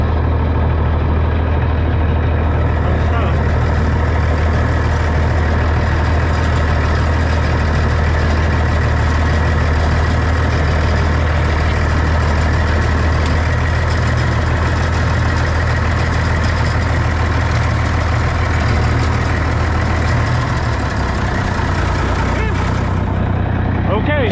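A Minneapolis Moline G707 tractor, left parked for 13 years, runs while driving, making a loud, steady engine drone with a constant low hum. It stays up close the whole time and eases slightly near the end.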